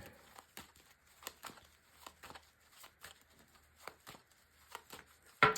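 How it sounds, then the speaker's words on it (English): Tarot cards are shuffled: soft, quiet riffling and flicking, repeated in irregular bursts, with a sharper crinkle at the very end. "So just going to shuffle my cards"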